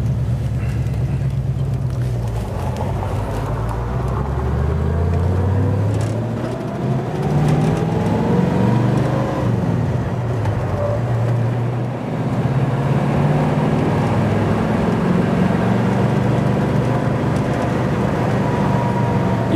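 A 1967 Ford Mustang GT with its factory exhaust accelerating out of a neighborhood, heard from inside the car: a low, smooth engine rumble rising and falling through gear changes, steady and fairly loud, with no talk.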